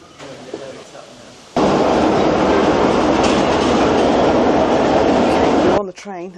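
Swanage Railway heritage train running on its Dorset line, a loud steady rumble of wheels on track heard from inside a carriage for several seconds, with quieter talk before and after.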